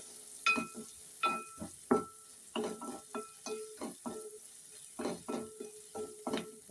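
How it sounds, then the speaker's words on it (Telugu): Onions fry in a pan, heard as a soft sizzle broken by a series of short, evenly spaced stirring scrapes and taps, close but quiet, with no talking. "ఉల్లిపాయలు అయితే గోల్డెన్ బ్రౌన్ కలర్ వచ్చే వరకు వేపుకోవాలండి"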